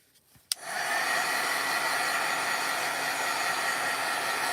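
After a click, a heat tool switches on and blows with a steady, loud whooshing hiss, drying a handmade card.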